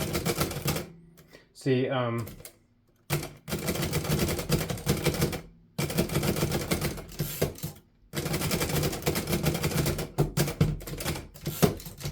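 Keys clack rapidly on a 1940s Remington or Underwood Noiseless 77 or 7 vintage manual typewriter, with dense bursts of strikes and brief pauses and a carriage-return ding, while someone talks over the typing.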